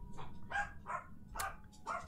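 A dog barks in four separate short bursts about half a second apart, at medium distance over a low background rumble.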